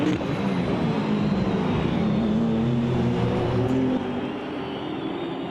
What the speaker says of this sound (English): You can hear the different aspects of the car, from the downshifts, the gearbox, and the engine whining.